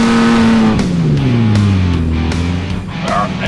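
The Pink Lady off-road vehicle's engine revs hard and strains at an off-road park, a loud, sustained roar whose pitch swoops down and climbs again as it is pushed to the limit.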